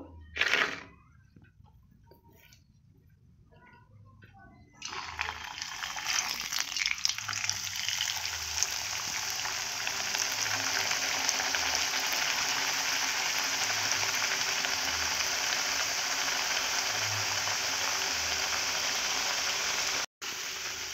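Pea kachoris drop one by one into hot oil and set off a sudden, steady crackling sizzle that continues close up after a quiet start.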